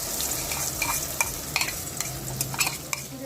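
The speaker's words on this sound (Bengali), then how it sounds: "পাঁপড় ভাজা হয়ে ডিমটা ভেজে নিচ্ছি।" An egg frying in a pan right after papad for a khichuri meal, with a bright steady sizzle and brisk spatula stirring scrapes close up, no voices.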